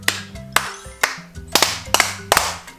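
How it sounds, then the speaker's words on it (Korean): Several sharp hand claps ring out one after another over a soft tonal background. The claps are distinct and fairly loud rather than hushed. "자, 여러분 조용조용 박수 세 번 시작."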